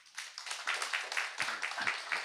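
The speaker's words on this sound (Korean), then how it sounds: "박수 한번 치주세요" Applause from a church congregation during a Sunday service: faint, quick, steady claps from many hands, somewhat distant and continuing throughout.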